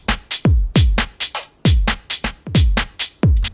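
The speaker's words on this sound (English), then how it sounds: "So this is just a drum loop from my UK Garage Volume 1 pack." UK garage drum loop from a sample pack: punchy kicks with pitched-down tails and crisp snares and hats in a shuffling, syncopated groove, loud and dry with nothing else over it.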